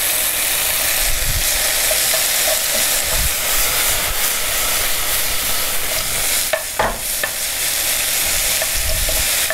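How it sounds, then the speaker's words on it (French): Shrimp sizzling and being stirred in a hot pan for a Korean kkanpunggi-style dish, a steady loud frying hiss throughout with occasional scraping stirs and a brief clatter near the end. "Vous les faites sauter"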